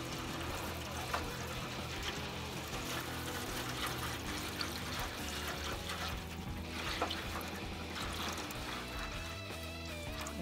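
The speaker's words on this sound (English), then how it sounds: "And I'm gonna go in with the water." Water is poured into the water pan of a smoker set up for pork butts, making a steady continuous splashing and trickling that stays fairly quiet and close, with no talking over it.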